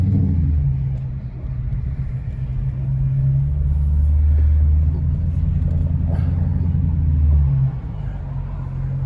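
A Dodge Challenger R/T with a catless exhaust rumbles deep and loud close by, its engine note swelling as it pulls and then easing off.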